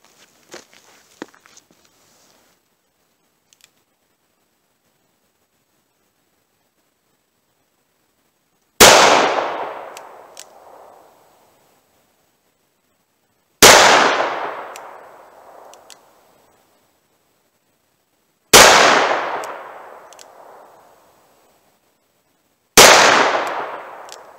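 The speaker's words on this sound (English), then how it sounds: "I'm going to go single action, and we're going to see how these shoot at 14 yards" Four loud, sharp revolver shots from a Smith & Wesson 686 firing .38 Special Inceptor ARX rounds single action at an indoor range, evenly spaced several seconds apart, each with a decaying echo, after faint handling clicks.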